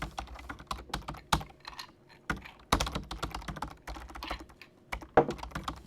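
Fingers type on a computer keyboard in a quiet room, a brisk irregular run of close, crisp key clicks with a few louder thumps, heard alone without talking.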